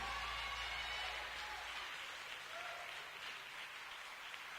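A church congregation at an evangelical mission applauds together in a steady, continuous wash of clapping. It is faint and distant and fades slightly toward the end.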